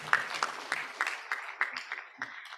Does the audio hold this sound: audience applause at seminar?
yes